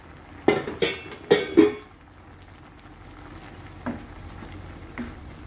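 Moringa leaves go into a pot of mung bean and shrimp stew with a few quick clattering rustles and clinks of utensil against pan, then a soft simmering bubble with scattered faint taps.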